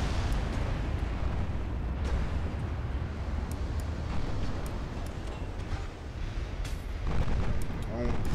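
Naval gunfire from warships in the game Ultimate Admiral Dreadnoughts rumbles as a dense, continuous roar of booming shots and explosions, with a voice speaking over it.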